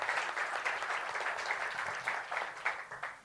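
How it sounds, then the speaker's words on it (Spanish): An audience at a Spanish-language urban development and real estate conference claps to welcome a speaker, a short burst of mid-level applause with individual claps standing out before it tapers off. "Los aplausos para recibirlo"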